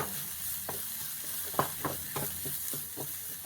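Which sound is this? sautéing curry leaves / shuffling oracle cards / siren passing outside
sautéing curry leaves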